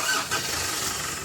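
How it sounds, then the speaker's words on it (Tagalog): A customer's Mitsubishi Strada, in for an oil change with an unstable idle and delayed pull, has its engine cranked and started up close. The steady, loud mechanical noise carries through. "Pa-start ko na itong makina ni customer."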